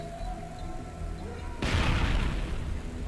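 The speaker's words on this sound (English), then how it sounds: "And grenade away." A loud, close grenade blast in the Modern Warfare 3 video game erupts partway through, a sudden booming burst that rumbles on over background game noise.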